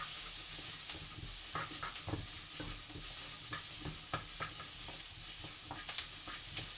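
Turmeric and cumin sizzle and fry in a pot for a Moroccan bean soup, a steady close hiss broken by repeated scraping stirs, with no voices.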